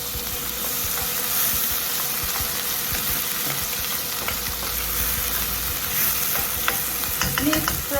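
Chopped tomatoes frying with onions in a pan while being stirred, a steady close sizzle with scraping spoon strokes running throughout, no talking.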